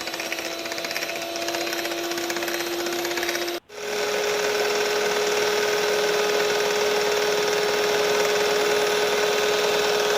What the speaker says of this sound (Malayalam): ഒരു കപ്പ് അളവിന് വിപ്പിംഗ് ക്രീം എടുത്തിട്ടുണ്ട് ഇതിനി നന്നായിട്ട് ബീറ്റ് ചെയ്തെടുക്കാം